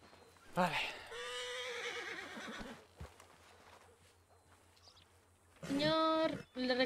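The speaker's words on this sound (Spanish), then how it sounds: "Espérate que hay un caballo." A horse in a ranch roleplay video game gives two loud whinnies, one near the start and one near the end, with hoof clip-clops between them.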